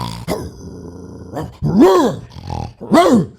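Comedian vocally imitating a protection dog on stage, delivering a few loud, gruff, growling barks in quick bursts separated by short pauses.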